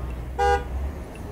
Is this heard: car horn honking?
yes